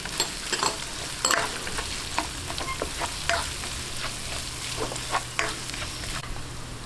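Ginger and onion sautéing in a pan for Marinduque-style kare-kare, a steady sizzle with repeated sharp scraping clicks of a spatula stirring throughout, close and moderately loud, no talking.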